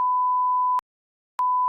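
A steady pure electronic censor beep at about 1 kHz runs for most of a second, drops briefly to silence, then sounds again, cutting out a spoken name on a podcast.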